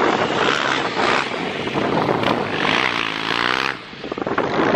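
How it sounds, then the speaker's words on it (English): Strong wind buffets and roars across the microphone at the sand dunes, with a passing engine hum that rises midway before the gusts return. "Getting windy."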